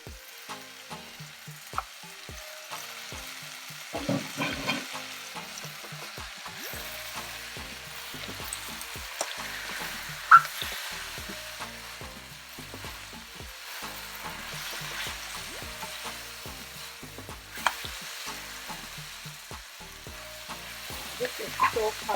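Super greens sizzling in a pan with curried garbanzo beans, a steady soft frying crackle with occasional stirring scrapes and clinks, close and without talk.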